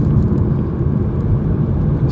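A rebuilt 2012 VW Golf GTI with the 2.0 TSI engine cruises on the road in a test drive, giving a steady, close cabin rumble of engine and tyre noise with no speech.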